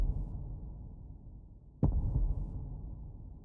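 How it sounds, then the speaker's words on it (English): A calm heartbeat plays in the Haikyuu anime, a low muffled thump followed by a deep throbbing pulse over a steady low hum, with nothing else heard. "We are only left with Yamaguchi's breathing and his surprisingly calm heartbeat."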